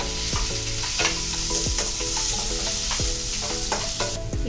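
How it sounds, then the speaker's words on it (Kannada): Onions frying for a prawn and mushroom sukka, a loud steady sizzle with repeated close scraping strokes of a spatula against the pan. "ಇವಾಗ ನಾವು ಇದಕ್ಕೆ ಈರುಳ್ಳಿ ಹಾಕೊಳ್ಳೋಣ. ಸ್ವಲ್ಪ ಫ್ರೈ ಮಾಡ್ಕೊಳ್ಬೇಕು."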